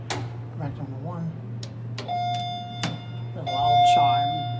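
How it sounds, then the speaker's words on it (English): An Otis traction elevator sounds a loud chime, a sustained electronic tone that rings twice over a steady machinery hum, while a person talks and clicks and thumps sound nearby. "A loud chime."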